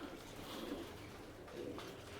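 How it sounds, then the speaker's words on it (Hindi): Pigeons coo softly in a loft of fancy pigeons, with low murmuring calls repeating faintly against a quiet background. "इस साइड में कबूतर दिखेगा जल्दी आपको"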